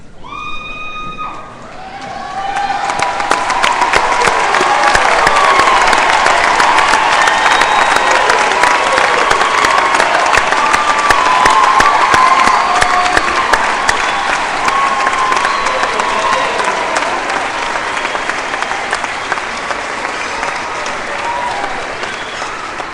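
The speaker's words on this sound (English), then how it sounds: "That's the applause for the pre-graduation part of this." Sustained, loud applause from a large commencement ceremony audience, building after a short quiet start and holding steady for about twenty seconds, with dense clapping and faint cheering throughout.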